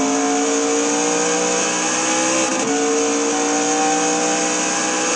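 Race car in a sim racing game at Le Mans, downshifting to second gear while easing off the throttle: a loud, steady engine drone throughout, with a brief dip and shift in pitch near the middle.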